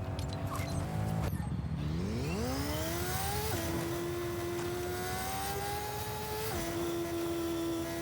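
Car engine in LEGO Fortnite whirring and accelerating, its tone sweeping upward then holding steady with a brief gear-like step, loud and continuous without talk.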